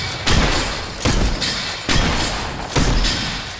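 Pump shotgun and revolver shots in the video game Fortnite, four heavy booming blasts spaced evenly about half a second apart, each close and loud with a decaying tail.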